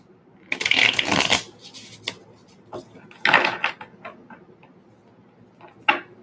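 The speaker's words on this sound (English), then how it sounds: "All right, let's shuffle these ones." A deck of tarot cards being shuffled at close range, a few bursts of riffling and flicking separated by short pauses, with no talk.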